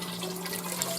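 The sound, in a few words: water being poured into a soup pot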